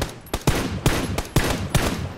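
Five sharp gunshots ring out at an even pace in a video game firefight, each a loud, close crack with a brief tail, spaced roughly every third of a second.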